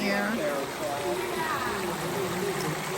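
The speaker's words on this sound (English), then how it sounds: "You can see the lovely, beautiful little fountain here." Small fountain in a conservatory trickling steadily, a soft continuous babble of falling water close by, with a voice talking over it.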